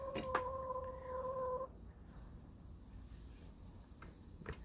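A hen gives a couple of sharp clucks and a sustained two-tone squawk in the first moments, then only a quiet ambient background remains with a faint click near the end.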